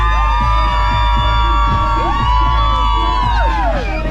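A crowd of people on a sandbar off Miami screams and cheers loudly and continuously. Whoops and shouts rise and fall over the steady roar of voices.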